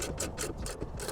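A wrench tightens bolts on a DIY Starlink mount inside a Bronco, giving a brief burst of rapid, close ratcheting clicks.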